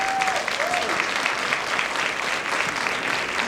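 Steady audience applause at a high school cosmetology fashion show, dense and continuous throughout, with a few whoops rising briefly over the clapping early on.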